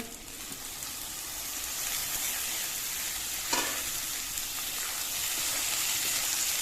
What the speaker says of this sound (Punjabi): ਆਪਾਂ ਪਿਆਜ਼ ਤੇ ਹਰੀ ਮਿਰਚ ਨੂੰ ਇਸ ਤਰ੍ਹਾਂ ਭੁੰਨ ਲਿਆ ਹੁਣ ਆਪਾਂ ਇਹਦੇ ਵਿੱਚ ਪਾ ਦਾਂਗੇ ਟਮਾਟਰ